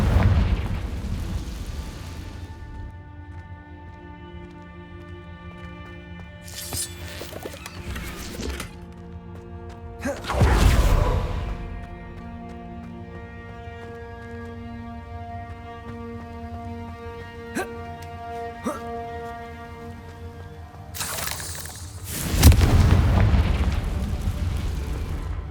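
Confringo spell explosions in Hogwarts Legacy, several loud booming bursts spread across the span over a sustained droning game music bed, with no talking.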